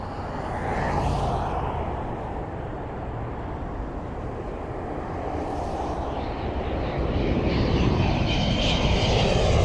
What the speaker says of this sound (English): the WestJet just over my shoulder here now